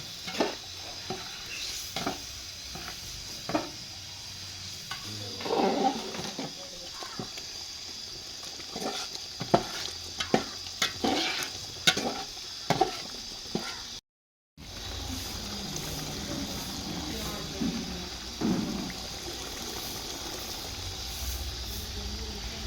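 Mutton biryani masala fries and hisses in a pot while a utensil scrapes and clacks against it in irregular bursts, with a brief dropout midway before the sizzling continues steadily.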